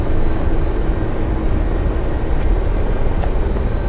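A Kiowa helicopter in a flight video game gives a loud, continuous rotor and turbine roar, dense and steady throughout with a few faint brief chirps near the end.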